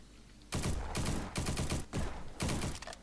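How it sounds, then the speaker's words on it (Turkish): Gunfire in the Roblox game Bad Business comes in four loud bursts of rapid shots, separated by brief pauses. "tekliye falan alıyor böyle tek tek ateş edebiliyorsunuz taramalı ateş edebiliyorsunuz"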